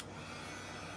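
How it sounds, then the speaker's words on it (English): A hair dryer blows to dry black ink on a painted craft piece, giving a steady, close, continuous whooshing hum with no breaks. "What's gonna happen is I'm gonna blow dry it."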